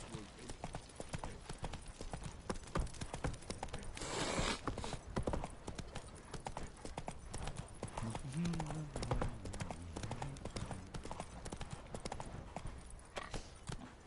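Horse hooves clip-clop steadily along in the open world of the video game The Witcher 3, a continuous rhythmic trot beneath game music and characters' voices.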